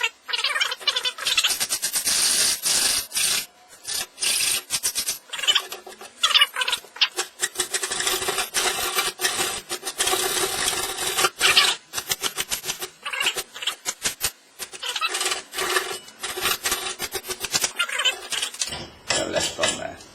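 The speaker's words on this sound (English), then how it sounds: "I'm just going to file off the top here, just with a little half round file here will do the job" A small half round file rasps across metal clamped tight in a vise, giving a close, loud run of repeated scraping strokes with brief pauses between them.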